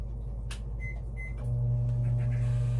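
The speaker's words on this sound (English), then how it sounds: "We're gonna throw this in the microwave for about 15." A microwave oven heating chips and cheese: door and button beeps, then the steady low hum of the oven running, close and even.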